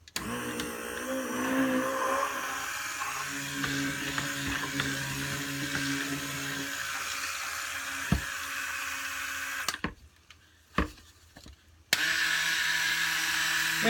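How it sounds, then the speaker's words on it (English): A handheld stick blender whirs steadily while mixing a batch of soap or cosmetic base scented with essential oils. The motor drones continuously for about ten seconds, cuts out briefly, then starts again, close to the listener. "When we bought this stick blender"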